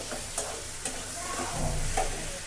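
Curry being stir-fried in a pan, a spoon scraping and turning it over a continuous sizzle, close by and steady for a few seconds.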